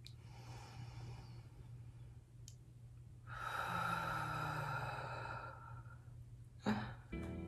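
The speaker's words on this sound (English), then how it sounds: "Take a deep breath with me. Three seconds in, three seconds out." Slow, deep breaths in and out during a guided breathing exercise, a long soft exhale sigh in the middle and a short sharper breath near the end, close and quiet.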